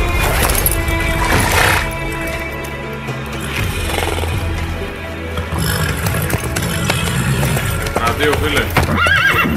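A horse neighs loudly over steady clip-clop of hooves in The Witcher 3: Wild Hunt, with a voice speaking briefly amid busy game background sounds.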